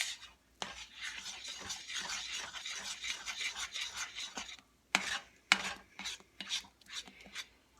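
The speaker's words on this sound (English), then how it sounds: "we're going to beat this just until we know the eggs are beaten into it" Eggs are beaten into chocolate cake mix batter by hand, giving rhythmic scraping and sloshing strokes against a bowl, fairly faint and close, followed by a few sharper taps and knocks near the end.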